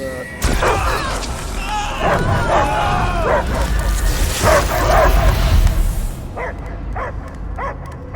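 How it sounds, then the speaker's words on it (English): Dogs bark repeatedly in a loud, chaotic scene from the Guardians of the Galaxy video game, with yips and whimpers layered under voices and booming effects throughout. "I hear only barking."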